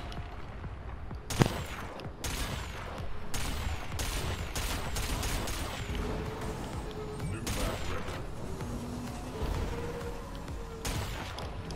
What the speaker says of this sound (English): Oh, I got cannons.